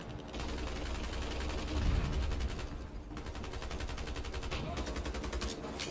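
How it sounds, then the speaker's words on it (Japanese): MP7 submachine gun fires in long, rapid automatic bursts in the FPS game IronSight, with a steady, rattling stream of shots broken by brief pauses and quiet commentary underneath. "よし、追って後ろから撃っていく"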